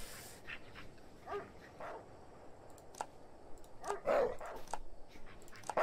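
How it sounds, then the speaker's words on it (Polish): Dogs bark in the Streamer Life Simulator video game, several scattered barks and yips at moderate distance over a low background, growing louder toward the end. "Pieski szczekają na ludzi, bardzo dobrze."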